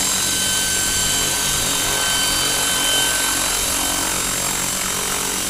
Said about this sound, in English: the helicopter is still very happily hovering